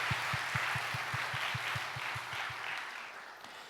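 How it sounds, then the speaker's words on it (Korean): Congregation applauding together during a Sunday morning service at a university church, steady broadband clapping with a regular low rhythmic thump underneath, sustained at moderate level throughout. "우리 그렇게 하실 하나님께 감사의 박수 드립시다"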